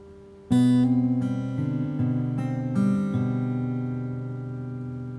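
Fingerpicked acoustic guitar pattern from a song, single notes rolling across the strings with a hammer-on, ringing together and slowly fading, close and clear with no voices.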